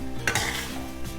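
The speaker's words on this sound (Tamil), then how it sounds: "இப்போ இந்த கிழங்கு கூட நல்லா இதில் மிக்ஸ் பண்ணிக்கலாம்" Sliced potatoes are stirred into tomato masala in a pan, giving a short, close scrape of a spoon against metal over a gentle sizzle.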